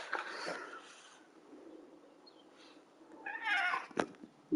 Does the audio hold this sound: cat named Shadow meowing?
yes